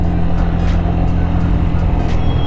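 A Honda Beat Street motorcycle engine revs under added throttle, a close, loud, steady drone with slight rhythmic pulsing and no talk.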